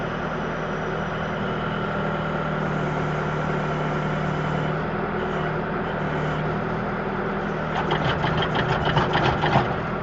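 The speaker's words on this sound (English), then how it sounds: "the one backhoe trick I am familiar with is if you go back and forth like that on the control, you can shake dirt out of the bucket" A backhoe with an extend-a-hoe idles steadily up close, a loud continuous diesel drone with a clattering rattle near the end as the controls are rocked back and forth.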